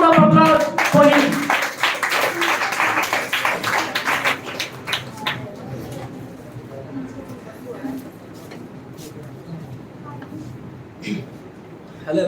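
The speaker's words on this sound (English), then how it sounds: "Please give a huge round of applause for him." An audience applauds at the grand finale of a speech contest on the status of women. Clapping is dense for the first few seconds with voices mixed in, then thins out into a quieter room.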